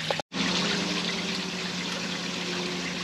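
Water pours steadily from a new chrome Bakki shower onto a koi pond's surface, a continuous close splashing rush that cuts out for a split second near the start and then resumes.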